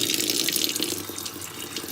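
A steady stream of strong acidic water pours from the diverter spout of a Kangen water machine, a constant close splashing rush with no pauses.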